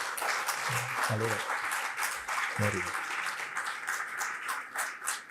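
An audience claps throughout at a Gujarati book launch for Kalindi Parikh's volume on Indian women saint poets: a steady round of hall applause with brief moments of people speaking over it.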